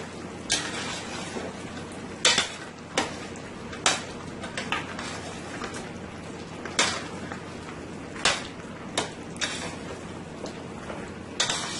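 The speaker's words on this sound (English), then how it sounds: "Let's give this a nice toss here." Beef stew ingredients tossed with low-sodium soy sauce in a pan: a series of sharp clatters and scrapes at irregular intervals, several spaced across the stretch, over a quiet steady background.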